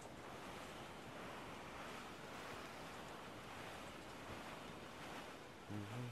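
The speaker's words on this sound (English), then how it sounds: "There's a strong wind now." Strong wind and rolling ocean waves at sea in Assassin's Creed Black Flag, a dense, continuous rushing roar of surf and gusts with no voices.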